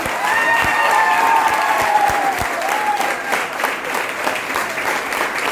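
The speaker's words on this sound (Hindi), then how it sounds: "जोरदार तालियां आप अपने लिए बजा लीजिए।" A crowd at a motivational leadership speech breaks into loud, sustained applause from many hands, close and full throughout. A voice rises briefly over the clapping early on.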